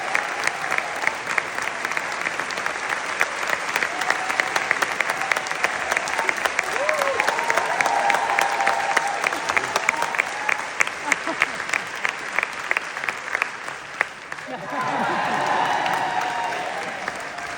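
An audience at an education festival applauds loudly and steadily, dense clapping from a nearby crowd that swells and carries on for many seconds before tapering, with a little talk mixed in near the end.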